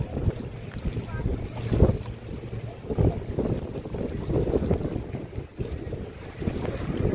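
A ferry crossing a river with passengers aboard, giving a steady low rumble of engine and water under gusting wind noise throughout, with no clear talk.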